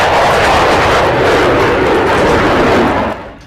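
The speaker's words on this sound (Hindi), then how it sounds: "ये लड़ाकू विमान अब बाइडेन का सबसे बदनाम फाइटर जेट बन चुका है।" A fighter jet's engine roars loudly in a broad, sustained rushing blast that holds steady for several seconds and then fades off abruptly at the end.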